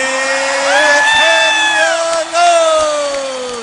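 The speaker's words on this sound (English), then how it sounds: "Listen to the crowd." A boxing crowd roars and whoops after a unanimous decision, loud and sustained with rising and falling shouts, plus a brief dip before swelling again.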